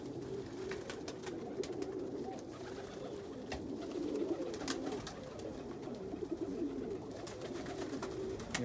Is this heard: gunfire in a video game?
no